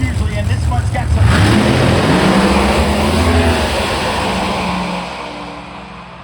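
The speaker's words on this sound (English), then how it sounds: "Now let's see if the Kolb Lumber car can make its move right here" A drag racing car launches and accelerates down the strip. Its loud, dense engine roar stays strong, then slowly fades toward the end.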